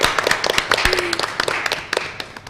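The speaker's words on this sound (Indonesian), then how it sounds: "Tepuk tangan yang meriah untuk kita semua di sini." Audience applause at a student debate show, a steady spread of many hands clapping with sharper individual claps standing out, moderately loud and continuous.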